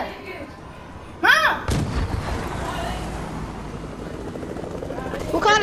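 Helicopter in a shooter video game, a steady rotor and engine drone running under loud bursts of gunfire and blasts, with a voice calling out briefly near the start and the mechanical roar continuing throughout.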